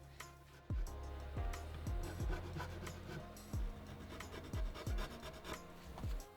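A file rasps across guitar frets, shaping a small V profile on their tops in repeated short strokes, close and fairly quiet, with thumps as each stroke lands.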